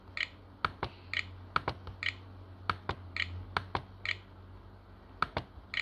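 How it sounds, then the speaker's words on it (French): A password is keyed in on a computer keyboard: sharp, close key clicks arrive in quick irregular bursts with short pauses between them, over a low steady hum. "Des fois, j'écris trop vite pour l'ordi et il n'a pas le temps d'entrer tout ce que j'entre"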